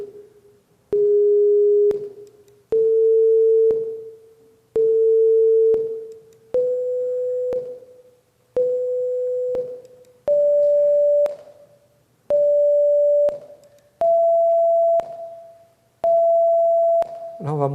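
Synthesized tones sonifying the vibration spectrum of a shape, sounding as about nine separate steady beeps of roughly one second each, evenly spaced, with pitch rising gradually from beep to beep; clean and alone.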